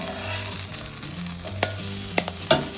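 A quick Asian-style stir-fry of winter cool-season garden vegetables sizzles loudly and steadily in a hot pan, punctuated by a few crisp utensil clicks and tosses near the end.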